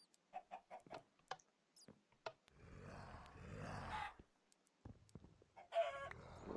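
Chickens in the video game Minecraft cluck in a series of short, sharp bursts, then a longer noisier stretch of game sound, with more clucks near the end.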